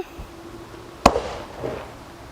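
A single sharp, loud report from a 9mm handgun striking a steel plate, followed by a short ringing decay and faint rattle, otherwise quiet around it.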